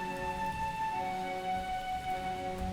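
Heavy rain falling outside, a steady soft wash heard indoors beneath a constant electronic hum with a few faint low bumps.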